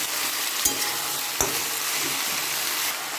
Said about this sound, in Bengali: এবার এর মধ্যে বেগুনগুলো দিয়ে দেব।